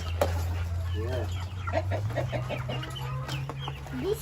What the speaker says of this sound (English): Look at the mom, the chickens.